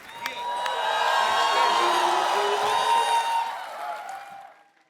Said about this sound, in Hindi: जोरदार तालियां नरगिस के लिए